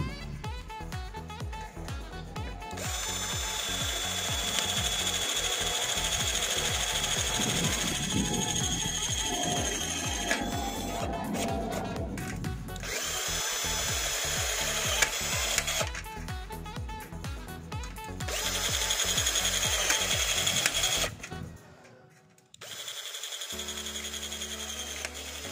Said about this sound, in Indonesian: saya akan ngebaut baja ringan ya, menggunakan baut self-drilling baja ringan